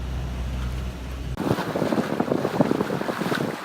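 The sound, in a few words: wind on a Bounty 2 sailboat on Lake Erie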